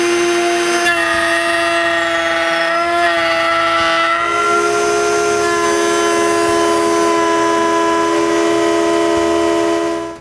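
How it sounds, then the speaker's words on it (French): A power saw cuts grooves in plywood for a domino jig, a loud steady whine with sharp sustained tonal pitches that shift slightly as the blade engages the wood, running continuously for about ten seconds with no talk. "je coupe toutes les rainures nécessaires pour les coulisses hantées"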